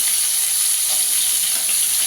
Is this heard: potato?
yes